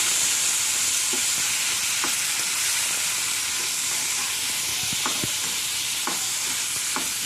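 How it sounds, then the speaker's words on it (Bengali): Shrimp fry in a pan for a prawn dish, a loud steady sizzle close up, punctuated by scattered scraping and tapping as a spatula stirs them. "এবার আমি চিংড়ি মাছগুলো দিয়ে দেব। নাড়াচাড়া করব।"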